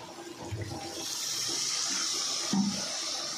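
Water poured into a cooking pan of potatoes and spices for a paneer dish, a soft steady hiss and splash of liquid with a brief gurgle near the end, fairly quiet.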